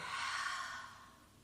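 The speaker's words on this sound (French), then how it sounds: "Écoute-toi respirer." A slow, soft breath during a hatha yoga session, one long airy exhale close to the mic that fades toward the end, quiet and alone with no talk.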